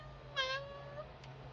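One short, quiet cat meow sounds on its own, bright at the start and tapering off, with faint background hiss and a tiny click after it.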